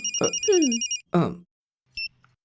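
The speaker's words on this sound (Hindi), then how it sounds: "Madam phone." A short electronic phone ring chirps in bursts, heard alongside brief speech and a small click.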